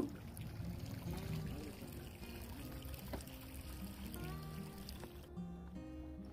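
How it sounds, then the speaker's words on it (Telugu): A small geyser at the edge of a Yellowstone lake bubbles and trickles faintly in the water, a quiet, continuous gurgle with soft talk in the background. "ఇక్కడ లేక్ ఎడ్జ్లో వాటర్లో ఒక చిన్న గైజర్ ఉంది"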